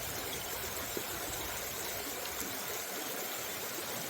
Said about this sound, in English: Did I say we're back on the McKenzie River?